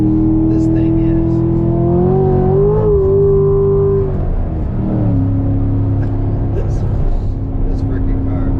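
A Corvette with a newly installed catch can accelerates hard, its engine drone rising in pitch, dropping at a gear change and climbing again, loud and close, with someone talking over it.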